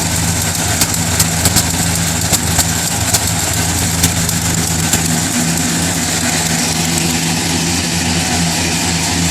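Oldsmobile 350 Rocket V8 idling with one noisy cylinder, a steady close-up rumble with a faint ticking pulse running through it and no talking.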